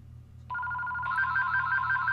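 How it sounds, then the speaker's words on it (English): A telephone starts ringing, a steady electronic trill that begins abruptly and grows fuller after a moment, continuing loud and close over a faint low hum. "Of course, my phone has to ring."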